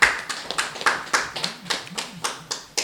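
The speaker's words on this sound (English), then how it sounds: "Please, a round of applause for yourselves." At a Nigerian conference on media and civil society, a small audience applauds with sparse, distinct hand claps in a loose, uneven rhythm, and faint speech sits underneath.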